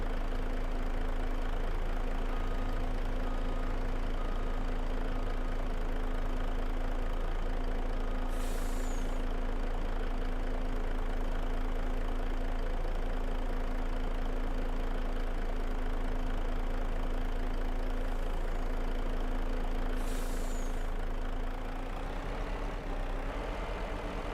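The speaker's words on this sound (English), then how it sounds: "You can jump in this fire engine if you like" A fire engine idles in Farming Simulator 25 on a Polish farm map, a steady low diesel rumble with a constant hum, broken by two short hissing air releases, loud and close with no talk.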